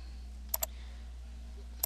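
Two quick pairs of mouse clicks while selecting an image in the Opera browser's settings, one double click early and another near the end, faint and close over a steady low hum with no talking.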